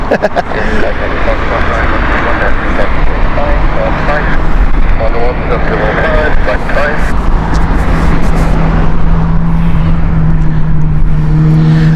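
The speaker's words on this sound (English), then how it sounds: "Nice flight here. The Smaller Airbus A380 here, British Airways." A British Airways Airbus A380 at Heathrow, its engines a broad, continuous rumble and roar on a windy day, with a steady hum showing late in the clip and someone talking over the noise.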